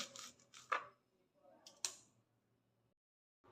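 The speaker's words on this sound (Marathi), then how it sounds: "असंच मी सर्व कांदा पात चिरून घेते" A knife chops spring onion greens on a board in a few sharp, quiet cuts separated by pauses, in a hushed kitchen.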